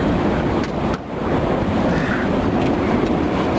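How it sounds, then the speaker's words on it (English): Loud, continuous wind buffeting a microphone outdoors, a dense roaring rush with one brief dip partway through. "Kind of windy and noisy here where I'm at,"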